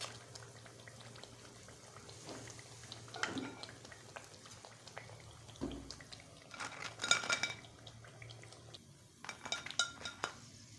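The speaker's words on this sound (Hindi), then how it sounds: "यहाँ पर हमारे पकोड़े फ्राई हो गए हैं, इन्हें हम निकाल लेते हैं।" Fried potato pakoras being lifted out of bubbling hot oil, a quiet steady bubbling with scattered metal clinks and scrapes from a utensil against the pan, close and fairly faint.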